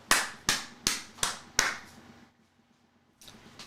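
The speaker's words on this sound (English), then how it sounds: "Here's an applause." A short sound effect on a sports betting live show: five sharp, evenly spaced claps or pops in quick succession, then a brief pause and the start of another, loud and dry with no talk over it.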